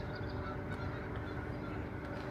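Geese honking along the Illinois River in a steady, dense background din, with no clear individual calls standing out.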